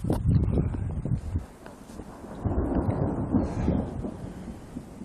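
Deep, rolling thunder from a thunderstorm in Alberta rumbles loudly in two long swells, with wind buffeting the microphone.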